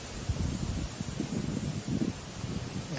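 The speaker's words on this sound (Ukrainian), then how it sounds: "Знову маємо вітер, але він, думаю, не повинен нам заважати" Wind buffets the microphone outdoors at a rifle shooting range, a steady low rumble with soft gusting swells and no talk.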